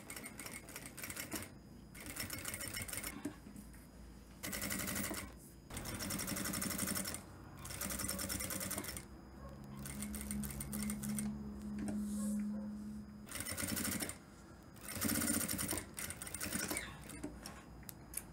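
A sewing machine stitches structured wool coat fabric in several rapid mechanical runs with brief pauses between them, close and clear.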